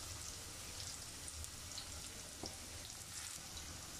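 Onions frying in oil for beresta while being stirred, restaurant-style chicken haleem preparation; a steady, close sizzle runs throughout with occasional soft stirring scrapes and no talking.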